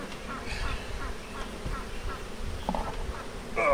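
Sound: swarm of honey bees

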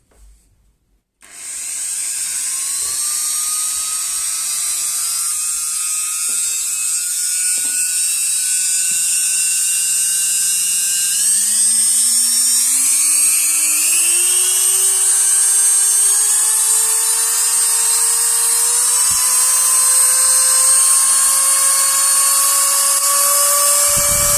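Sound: Bim Proware mini rotary engraving and grinding tool running

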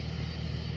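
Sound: car passing on a busy road

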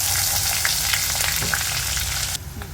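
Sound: fennel, cloves, cinnamon, green chilli frying in hot coconut oil

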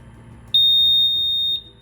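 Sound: VOC gas detector alarm beeping

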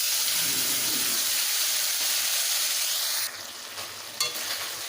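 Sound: stirring spices frying in a pan

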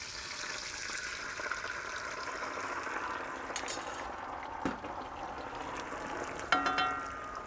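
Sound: spaghetti sauce with stock simmering in a pan on gas

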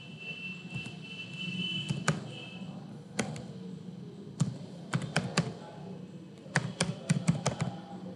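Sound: typing a device UID on a computer keyboard

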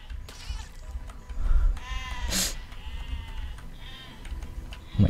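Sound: sheep bleating in the video game Besiege

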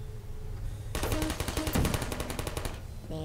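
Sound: gunfire from turrets in the video game Portal

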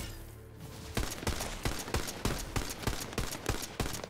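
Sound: gunfire from a gun in the video game Tiny Tina's Wonderlands

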